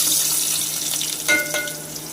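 Chopped onions frying in hot oil in a small pan, a steady close sizzle with a couple of quick stirring scrapes, no voices.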